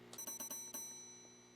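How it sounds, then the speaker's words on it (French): A bell rings in a horror video game, several quick metallic strikes in a cluster followed by one more, each leaving a long shimmering ring that fades slowly into quiet. "J'ai déverrouillé un succès de sonner la cloche au moins 100 fois."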